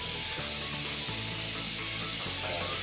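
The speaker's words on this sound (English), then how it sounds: "we're going to add 2 tablespoons of chopped garlic" Chopped garlic sizzles in a frying pan with mushrooms for a pasta dish, a steady close hiss of frying with a few faint stirring and scraping touches throughout.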